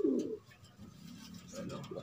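Pigeons coo softly nearby in low, throaty, rolling calls, a stronger burst at the start and more murmuring coos toward the end.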